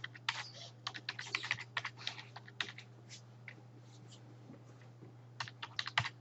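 A credit card number is keyed in on a computer keyboard in short bursts of crisp clicks, with a quieter lull in the middle, over a steady low electrical hum.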